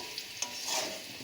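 Whole potatoes fry in hot oil for an egg and potato curry, giving a soft, close sizzle with a couple of light clicks of a utensil.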